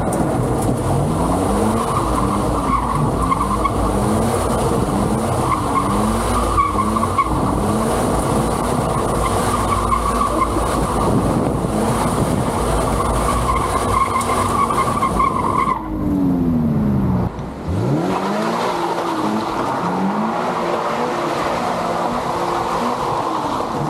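A Toyota GR86 with the 2.4-litre engine drifting with its rear wheels spinning, loud sustained engine roar rising and falling with rhythmic tire squeal, a brief lift-off near the end, then the revs climbing again as the drift continues.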